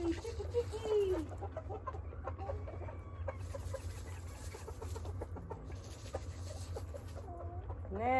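Chickens clucking and squawking through a morning feeding in 44-degree weather, a steady flock chorus with a few louder calls, heard close over a constant low rumble.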